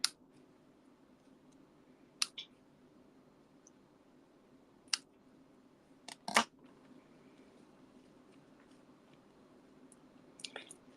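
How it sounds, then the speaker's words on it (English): Scissors snip gold trim pieces for a papercraft project, a few sparse, sharp clicks spread across a quiet room with long pauses between cuts. "So I'm just going to snip off some of these."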